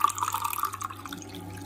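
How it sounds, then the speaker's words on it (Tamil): Hot water pouring in a thin stream, bubbly and splashing, close by and moderately loud, lasting under two seconds. "சூடா வெண்ணி தண்ணி தான் ஊற்றுறான்."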